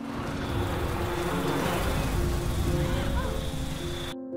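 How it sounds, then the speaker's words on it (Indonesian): Thousands of flies swarm out of an uncovered corpse in a possession horror film, a loud, dense, continuous buzzing drone that holds steady and then cuts off abruptly. "Megan membuka penutup mayat dan keluarlah ribuan lalat."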